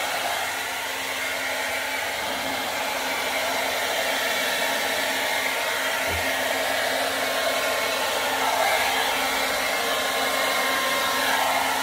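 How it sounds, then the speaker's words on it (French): A hair dryer, held upside down over poured acrylic paint, blows with a steady, even whoosh that stays constant and close from start to finish, with no speech. "Et là, je tiens mon sèche-cheveux"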